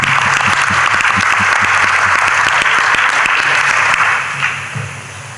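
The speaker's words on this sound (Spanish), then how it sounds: "reciba usted de todos nosotros un fuerte aplauso por la exposición que nos va a brindar" Audience at a panel lecture applauding a speaker, a dense, loud burst of clapping that holds steady for about four seconds and then fades out.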